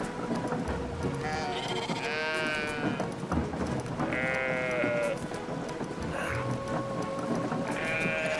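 Sheep in the video game Brothers: A Tale of Two Sons Remake bleat several times at spaced intervals, clear and fairly close, over a soft continuous in-game ambience with no talking.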